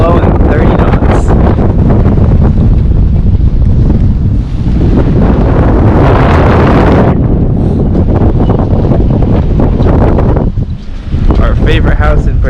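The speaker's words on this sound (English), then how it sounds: "And it's blowing 30 knots." Strong 30-knot wind buffets the microphone on a boat at anchor, a loud continuous roar with gusty surges and some water sounds, lasting throughout with a brief dip near the end.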